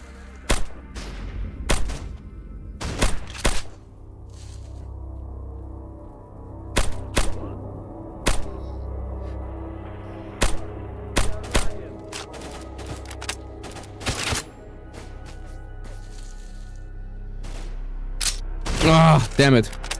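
Gunshots in the S.T.A.L.K.E.R. Lost Alpha video game, heard as repeated sharp bursts of rifle fire in short volleys with gaps between them over a low rumbling ambience. Someone speaks briefly near the end.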